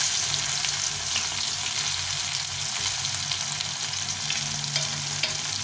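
Onion frying in hot oil with dried chili and cumin, a steady close broadband sizzle that runs unbroken throughout with no talking.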